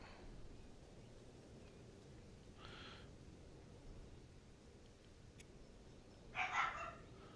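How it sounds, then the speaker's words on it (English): A dog barking in another room, heard as two short, faint, muffled barks several seconds apart over steady background hiss. "So my dog's barking again."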